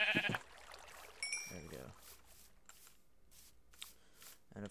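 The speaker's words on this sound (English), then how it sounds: "Let's kill the sheep." Sheep in a modded block-building video game bleat in short bursts near the start and middle, amid light clicks and faint game noise, with talk around them.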